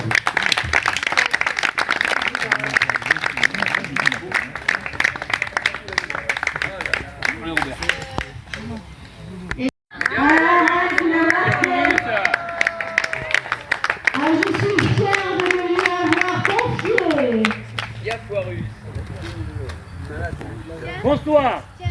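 Applause from a crowd at a birthday celebration fills the opening stretch, then fades as speech and voices take over after a brief pause.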